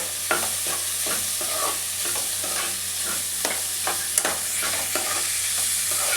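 Cauliflower and egg mixture with salt being stirred in a pan, with a constant gentle sizzle and regular scraping strokes of the spoon, close and steady throughout.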